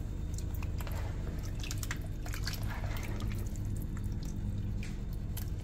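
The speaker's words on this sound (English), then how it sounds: "And then we're gonna rinse the oxtail." Raw oxtail gets rinsed under running water in a kitchen sink, with a steady splashing, dripping and squishing of wet meat being handled, close and continuous.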